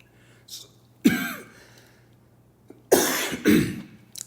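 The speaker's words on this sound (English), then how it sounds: "Sorry for the coughing." A person coughs in a few harsh bursts with short gaps between them, close and fairly loud in a quiet room with a faint steady hum underneath.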